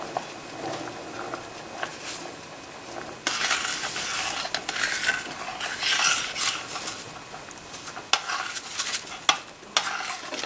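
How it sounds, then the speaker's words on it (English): Ghost chili (bhut jolokia) jam stirred in a pot as jam setter is added, soft scraping and bubbling that grows louder and busier partway through, with sharp spoon knocks near the end. "just stirring while I add the jam setter"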